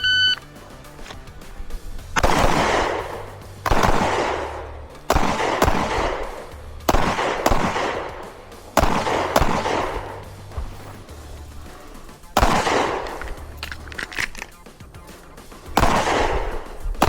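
Pistol shots at an IDPA shooting match, loud sharp reports in close, evenly spaced strings, roughly a dozen in all with short pauses between groups, ringing against steady outdoor background noise.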